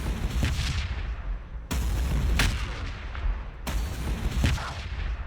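Basilisk artillery pieces firing in the Warhammer Battlesector strategy game: three heavy, booming cannon shots, each with a long rumbling tail, spaced roughly two seconds apart.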